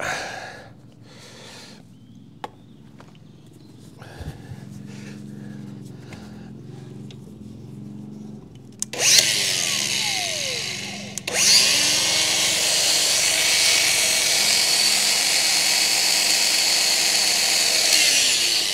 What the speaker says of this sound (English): So I'm just going to grind it clean, that bit under there.